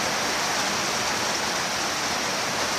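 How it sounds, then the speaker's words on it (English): Rainwater leaking into a workshop on a rainy day and flowing in, a steady broadband rushing and splashing wash of water that stays constant and fairly loud throughout, with no other sounds over it. "Oh, another leak there. Look at this. Flowing. Flowing in."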